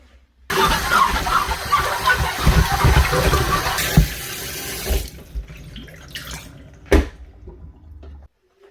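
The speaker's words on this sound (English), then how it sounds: "Step 2, give it a wash." Aquarium materials are washed under a running tap, with a steady close gush of water into a sink that later gives way to a few splashy bursts and handling clatter before cutting off.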